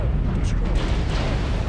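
An incoming missile explosion in the MechWarrior Online video game: a dense, rumbling blast roar fills the moment while a voice speaks over it.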